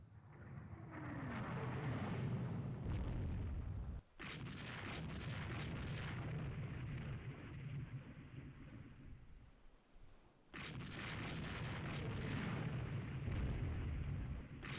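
Heavy naval salvos from 16-inch battleship guns in the naval strategy game Rule the Waves 3, long rolling booms that rumble for several seconds each, separated by brief pauses.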